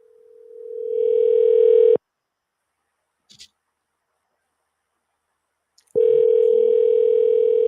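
A telephone line tone hums loud and steady while a call is placed. It swells in for about two seconds, drops to near silence with a couple of faint clicks, then returns just as strong.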